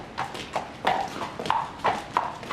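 A ridden horse clip-clopping across a field, with a steady run of about eight moderately loud hoof strikes at an even walking pace and no voices.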